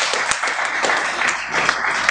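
A church congregation claps in praise, a dense, fairly loud wash of many hands clapping at once, continuing steadily throughout.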